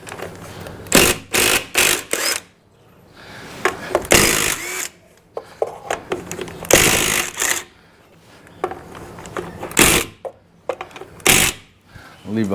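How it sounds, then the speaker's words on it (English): Wheel nuts being slackened off on a ute before it goes onto axle stands, heard as a series of sharp metallic clanks and ratcheting bursts close by, mixed with shuffling and movement. "So I'll just start slackening off some of these wheel nuts."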